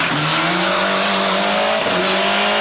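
Mevius's rally car at the 1996 Omloop van Vlaanderen speeds past, its engine a loud, steady high-revving drone with a brief pitch drop as it goes by at close range.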